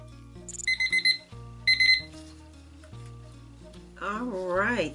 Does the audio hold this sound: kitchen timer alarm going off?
yes